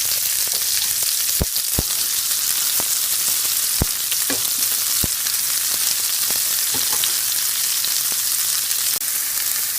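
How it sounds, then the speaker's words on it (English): Onions sizzle steadily in hot bacon drippings in a pot, a dense crackling hiss with scattered sharp pops, close by and with no voices. "I'm going to add our sliced onions to the bacon drippings in the pot. I love that sizzle."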